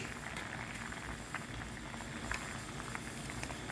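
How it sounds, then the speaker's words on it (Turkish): Apricot jam with sugar bubbles on the stove, soft pops and blips over a steady low simmering hiss. "Kayısı reçelim 10 dakikadan beri şekeriyle kaynıyor."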